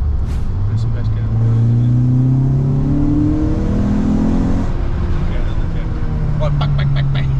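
A Citroen Saxo Cup 16V engine revs up loudly and close, rising in pitch across several seconds before dropping back to idle, then climbing again, with faint voices nearby.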